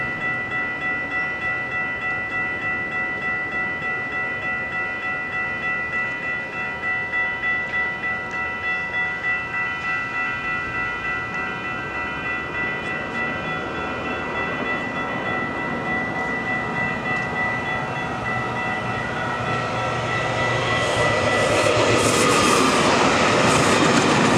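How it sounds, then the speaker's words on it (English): A G-Line commuter train passes a crossing near Denver with a steady rumble and crossing-bell tones throughout, growing louder and harsher toward the end as the cars roll close by. "The train that's passing first, however, though, is a G-Line commuter train."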